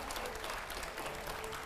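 An audience at a live interview show applauds, a dense, even wash of many hands clapping that runs through the whole short stretch, quite faint and distant.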